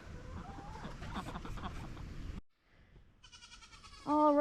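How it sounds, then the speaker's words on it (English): Farm goats bleat loudly close by, with a noisy stretch of calls and rustling, a sudden pause, then a sharp, high, wavering bleat at the end. "my goats saw me, so they're being very loud"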